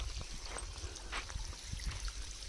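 Irrigation water trickles steadily into the basin around a banana plant on a farm, a soft continuous wash of flowing water heard close and alone.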